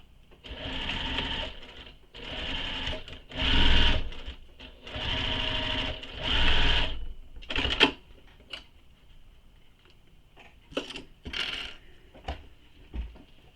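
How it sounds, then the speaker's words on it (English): A sewing machine top stitches a backpack side piece in several bursts of rapid, whirring stitching separated by pauses, followed by shorter clicks and brief runs, close and clear with no talking. "now we're going to top stitch this side piece"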